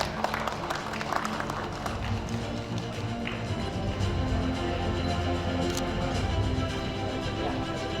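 A crowd in a hall at a provincial chamber of commerce meeting in Dumai applauds the newly elected chairman, with dense, steady clapping that continues throughout.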